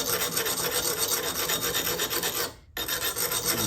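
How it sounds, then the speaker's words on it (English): Sharpening stone rubbed along a pruner blade, a continuous close rasping grind with a brief pause near the end before the grinding resumes. "I've got my sharpening stuff down here. You could take like a stone like this,"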